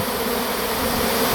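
A large honeybee swarm lifts off near a château in a thick, continuous buzz, loud and close, holding steady from start to finish with no voices.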